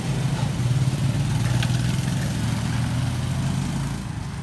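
A steady, chugging Kawasaki Barako 2 motorcycle engine idles close by, a low even rumble holding for several seconds before easing off slightly at the end.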